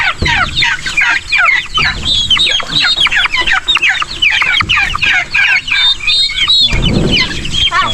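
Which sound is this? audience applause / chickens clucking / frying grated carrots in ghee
chickens clucking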